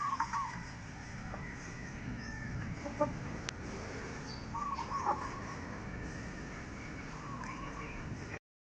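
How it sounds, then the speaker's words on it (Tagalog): Backyard chicks and chickens cluck and peep softly over a steady low background, with a few brighter calls scattered through and a person's voice faintly present. "At ito na yung mga sisiw natin na tapos na kumain"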